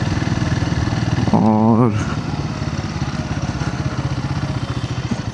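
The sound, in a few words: motorcycle engine on a group ride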